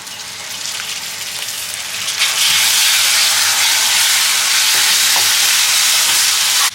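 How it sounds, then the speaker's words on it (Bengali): Tomato paste hits chicken already frying with turmeric in a pan, and the sizzle jumps sharply to a loud, steady hiss while a spoon stirs through it, close by and without talk. "টমেটো বাটা দিচ্ছি।"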